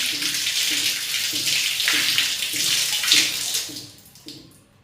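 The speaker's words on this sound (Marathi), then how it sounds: "हा स्वच्छ पाण्यामध्ये धुवून घेऊया आपण." A dirty washing machine filter is rinsed under a running tap, giving a loud, continuous splashing flow with a steady, pulsing rhythm that fades out near the end.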